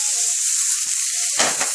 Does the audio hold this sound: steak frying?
yes